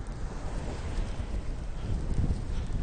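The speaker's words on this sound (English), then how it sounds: "Windy as hell." Steady wind buffeting a microphone on a mountain peak hike, a loud continuous low rumble with gusty swells and no voices.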